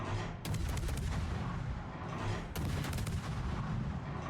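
Gunfire from a Tier 10 Commonwealth destroyer, the Vampire II, in World of Warships, with two loud booming salvos that crack out and then rumble on in a continuous heavy wash of battle noise.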